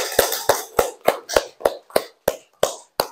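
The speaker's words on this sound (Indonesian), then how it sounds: "Tepuk tangan." A school class claps together in a steady, unison rhythm: about ten crisp, evenly spaced claps, fairly close and moderately loud, with no talking.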